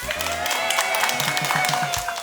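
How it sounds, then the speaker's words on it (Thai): Audience applause and crowd noise for a contestant on a cooking competition show after her fried larb dish, a steady dense wash of clapping with a voice talking over it and background music. "ขอเสียงปรบมือนะครับให้กับน้องหวานกับเมนูลาบทอดนะครับ"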